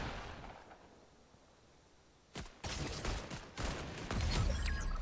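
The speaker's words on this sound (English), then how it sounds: "So that's where Booga gets sniped." A Fortnite sniper shot is heard in replay mode: after a quiet stretch, a sharp loud crack lands, followed by more booming shots and blasts.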